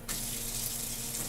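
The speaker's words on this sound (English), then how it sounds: "Let's get this thing to fill up the water." A tap in a cartoon-style game scene gushes water into a sink, a sudden steady rushing stream that starts right away and keeps going at an even level without voices.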